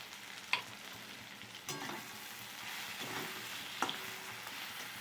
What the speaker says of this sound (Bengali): হাফ চামচ লঙ্কার গুঁড়ো দিয়ে আমি ভালো করে মশলাটাকে কষিয়ে নেব।